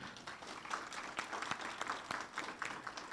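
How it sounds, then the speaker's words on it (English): Audience members at a behavioral health town hall meeting give a faint, distant round of applause with scattered individual claps throughout. "So give all of them a big round of applause."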